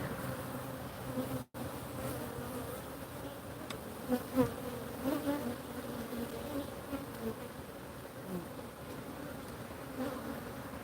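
Honey bees buzz steadily in an opened hive with hatching brood and drone cells, a dense continuous hum with a few louder swells from bees passing close to the microphone.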